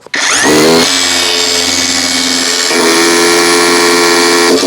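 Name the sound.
DCK power drill driving concrete screws into block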